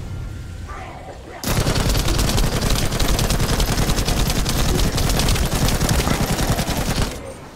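Machine gun fire in The First Descendant, a loud sustained rapid stream of shots that kicks in abruptly after a quiet start, runs steadily for several seconds, then cuts off.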